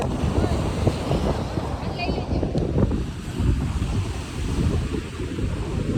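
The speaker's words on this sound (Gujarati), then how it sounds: "બહુ મોટા મોટા મોજા આવે છે" Large waves crash and surge against the shore at Dwarka, Gujarat, in rough weather, with a heavy roar, mixed with gusting wind buffeting the microphone, loud and close.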